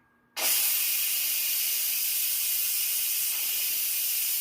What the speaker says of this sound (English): So we're going to turn it to venting. It's going to release all the steam.